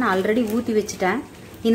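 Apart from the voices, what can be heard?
No everyday noises stand out.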